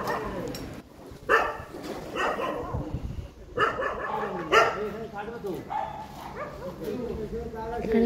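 Neighbourhood dogs bark repeatedly at night while a crew repairs a broken electricity line. Several loud, close barks and yips come in irregular bursts, with people talking underneath.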